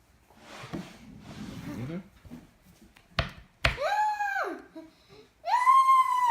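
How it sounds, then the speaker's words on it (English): A young child lets out loud, high-pitched screams in two bursts, after some softer vocal sounds and a few thumps indoors. "We don't scream like that."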